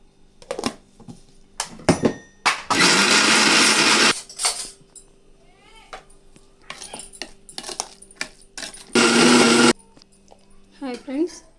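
A mixer grinder blends turmeric, salt and oil into a paste in two loud, steady bursts, one lasting over a second and a shorter one later, with clattering jar handling and knocks in the quieter gaps.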